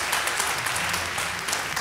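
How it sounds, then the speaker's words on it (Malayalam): A studio audience claps for contestants on a TV cooking competition, giving a steady, dense round of applause from many hands at moderate loudness throughout. "നല്ലൊരു കൈടി കൊടുക്കൂ"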